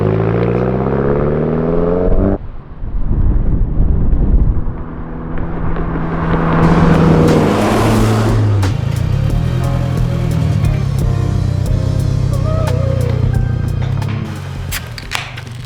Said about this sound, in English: I can notice that the exhaust is just a little bit louder than before.